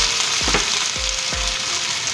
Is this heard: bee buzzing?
no